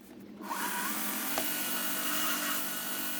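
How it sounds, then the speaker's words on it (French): Folding knife steel being shaped with an angle grinder and then a belt sander, a steady loud abrasive whir and hiss that starts abruptly and runs continuously, with a brief sharp tick midway. "Donc je commence à la disqueuse et puis je vais continuer à la ponceuse à bande."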